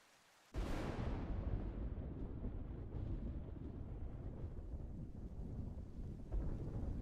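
A rocket explodes in the video game Kerbal Space Program: after a short quiet moment a sudden deep boom bursts in and becomes a sustained loud rumbling roar that lasts to the end, with no talk.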